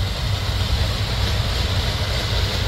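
A new John Deere sugarcane harvester's engine gives a loud, steady, broadband roar with a deep rumbling low end, holding constant throughout with no talk over it.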